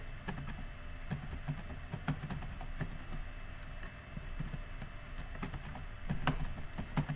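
Typing on a computer keyboard produces a quiet, steady patter of close key clicks in irregular bursts over a faint background hiss, with no speech.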